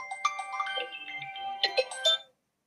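A mobile phone plays a bright electronic melody ringtone, a quick run of tones for about two seconds before cutting off.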